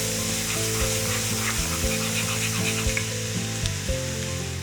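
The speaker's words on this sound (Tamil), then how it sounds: "எண்ணெய் காஞ்சதுக்கு அப்புறமா பூண்டு ஆட் பண்ணிக்கிறேன்." Chopped garlic sizzles and fries in hot oil in a kadai, a steady close crackle with occasional stirring scrapes and a low hum beneath, no voices.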